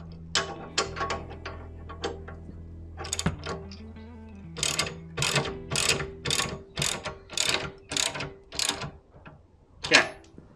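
Bolts on a motorcycle jack hitch hauler are tightened with a large ratchet, giving repeated close clicking bursts in an uneven rhythm with brief pauses between strokes.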